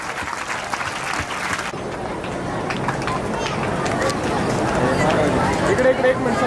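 Crowd at a get-together clapping hard and steadily, a dense wash of applause that grows louder toward the end, with voices murmuring underneath.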